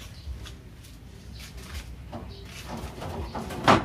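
Racing pigeons in a loft coo in soft, low bursts spread through the moment, with light rustling and a sharper close call near the end, all fairly quiet and without talk.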